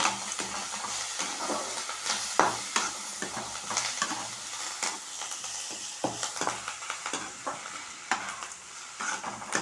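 Curry leaves are roasted in a hot pan and stirred constantly, giving a scraping, rustling rhythm over a light crackling sizzle, with no voices.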